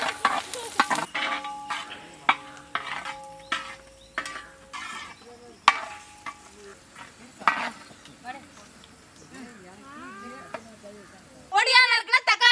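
Mustard seeds, cumin, slit green chillies, curry leaves and chopped onion sizzle in hot oil for a crab curry, with clattering stirs and sharp spits, a louder burst of sizzling at the end, and intermittent voice-like or meowing sounds in the background.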